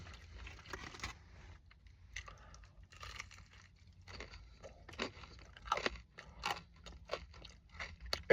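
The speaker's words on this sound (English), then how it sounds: "It's really crunchy today." Crunchy battered Popeyes fried chicken being chewed up close, irregular sharp crunching bites that grow louder and denser toward the end over a faint low background hum.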